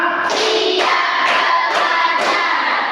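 Middle school students in a mathematics classroom clap together in counted patterns, several loud, sharp bursts of group clapping following one another in a brisk rhythm, close and bright.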